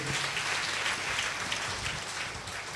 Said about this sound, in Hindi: ताली बजाकर प्रभु को स्तुति करेंगे।